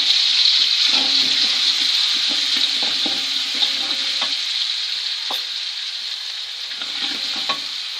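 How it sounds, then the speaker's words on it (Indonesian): A ground spice paste for fried noodles stir-fries in a pan, giving a steady, loud sizzle with scattered scrapes and clicks of stirring throughout, no voices present. "Sekarang kita tumis."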